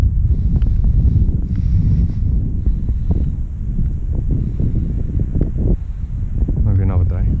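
Strong wind buffets outdoors at an RC bird flying session, a loud low rumble of wind against the microphone that stays constant throughout, with bumps and handling knocks and a brief faint whine near the end.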